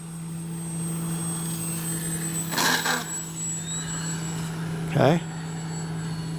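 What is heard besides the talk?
RC model airplane (FMS Ranger) flying, propeller engine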